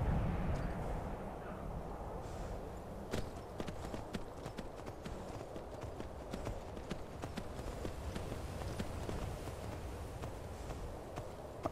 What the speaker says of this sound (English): I don't really think you need a warning if you can hear a horse coming up on your